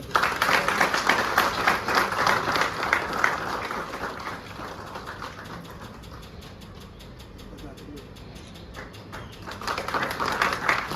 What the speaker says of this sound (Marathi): सत्कार करत आहेत तरी सर्वांनी टाळ्या वाजून